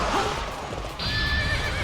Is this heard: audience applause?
no